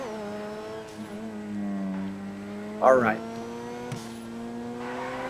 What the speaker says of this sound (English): The dimensions of this car are perfect for you to do a 360 drift through that tunnel